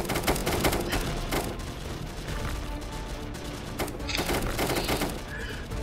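Players' guns in a cooperative shooter video game fire in heavy, near-continuous automatic bursts, with overlapping volleys and occasional booms. The barrage is loud and close throughout.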